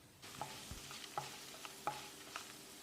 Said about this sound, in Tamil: குறைஞ்ச தீயில் 1 நிமிஷம் இதை வதக்கி விடணும்.